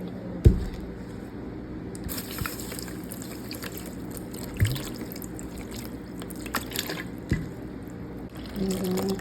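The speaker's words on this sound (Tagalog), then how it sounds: "lagyan natin siya ng vinegar" Apple cider vinegar poured onto fish, liquid trickling and dripping in short splashes with a few sharper knocks, close by, with a voice talking intermittently.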